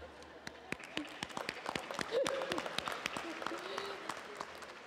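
Audience of friends and family applauding at a community college graduation ceremony, fairly faint and distant, a thin spread of claps swelling slightly midway and continuing steadily.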